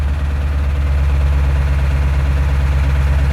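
A diesel truck engine runs at high idle, a loud, steady low rumble with a fast pulsing throb that holds constant from start to finish.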